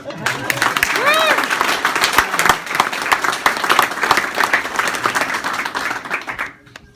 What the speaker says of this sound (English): You can take your hat off, take some applause.